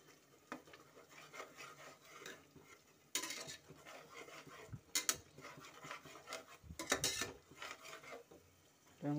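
A spoon stirs turmeric water into a spice paste, giving continuous scraping and rubbing against the bowl, with a few louder bursts of friction and light clinks.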